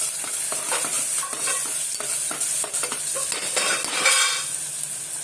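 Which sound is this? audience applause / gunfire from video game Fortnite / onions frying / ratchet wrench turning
onions frying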